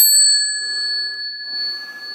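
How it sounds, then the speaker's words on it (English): A metal meditation bell struck once, a bright clear ring with sustained pure tones that decay slowly, close and alone with faint room noise beneath. "there is also the sound of the metal, the sound of the bell"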